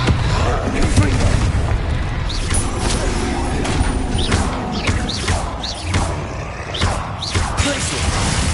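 Dense battle combat from Hogwarts Legacy with repeated Confringo fire spell blasts, loud booming thuds and crashes layered continuously under game music and effects, with a voice calling out spells.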